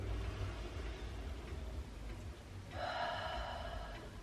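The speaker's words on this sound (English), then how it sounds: "Let's take a deep breath. Inhale, arms up. Exhale." Deep breathing during an arm workout with dumbbells and a flex band: a slow inhale followed by a longer audible exhale, quiet and close, with no talking.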